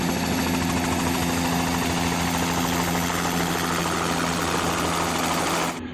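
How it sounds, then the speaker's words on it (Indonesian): A toy helicopter flies with its propeller spinning, making a loud, steady, close buzzing whir with a constant motor tone that holds without a break before cutting off abruptly at the end. "Wih, lihat, teman-teman, baling-balingnya berputar."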